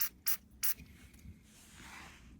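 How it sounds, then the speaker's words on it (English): Deoxit D5 contact cleaner sprayed into a drum machine's buttons in three short, sharp hissing bursts close to the mic, followed by faint rubbing and a soft lingering hiss. "Deoxit is great because you can spray it right into the buttons."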